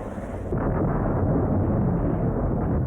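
A sustained, roaring rumble that follows a sharp onset, suggesting the blast of a 500-pound bomb on a battlefield, loud and continuous with heavy low-end energy and wind-like noise, with no speech.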